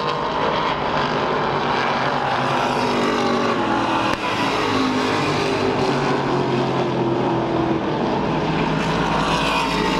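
Race cars roaring past on an oval track during a race, a continuous loud engine drone with rising and falling passes as the leaders come by lapped traffic, no talking over it.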